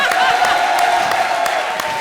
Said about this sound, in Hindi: हमारी सेलिब्रिटी के लिए जोरदार तालियां